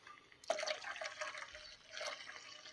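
Water poured into a container holding acid and brass casings, a soft splashing trickle that starts abruptly, eases off, then swells again, faint and close with no voice.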